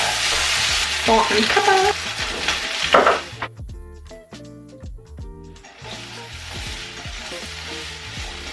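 Potatoes for home fries sizzle and crackle in coconut oil in a pan over medium to low heat, with stirring and pan scrapes, strongest early and then a steadier frying hiss; a voice speaks briefly.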